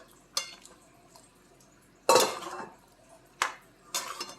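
Cut potato pieces dropped into a pot of pea and chicken curry, giving a few separate clattering clinks and one louder scrape-and-plop burst against the pot, close by, with short pauses in between.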